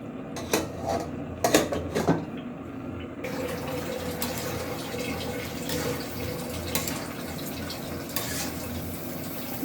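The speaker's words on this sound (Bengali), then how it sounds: "আবার আর একটু ঢাকনা দিয়ে দিই" A lid is set on a cooking pot in a village kitchen, with a few metallic clanks and knocks near the start, followed by a steady soft hiss from the covered pot.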